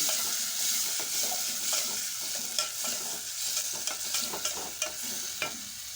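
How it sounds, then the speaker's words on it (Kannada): Tomatoes added to frying onions, garlic and curry leaves for drumstick sambar, with a constant sizzle and repeated scraping clicks of stirring, close and alone. "ಈಗ ಉಳ್ಳಾಗ ಟಮಾಟೆನ ಹಾಕ್ತೀನಿ"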